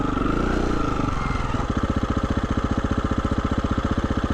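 A Husqvarna motorcycle engine rumbles nearby, shifting from a rough idle into a steady, rapidly pulsing run as the bike pulls away on a sunny trail.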